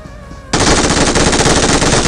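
Sustained rapid automatic gunfire in a battle royale mobile game bursts in abruptly after a quiet moment and continues loud and dense to the end.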